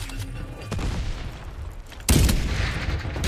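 Gunfire in the battle royale shooter Farlight 84, with scattered shots early on, then a sharp loud blast followed by a dense crackle of continued fire.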